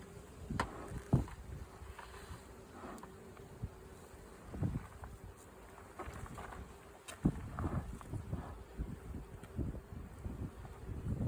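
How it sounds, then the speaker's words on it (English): Honeybees buzz around an open hive during an autumn inspection, a steady low drone with wind rumble on the microphone and scattered handling knocks, close and fairly loud throughout. "we are just doing a quick hive inspection"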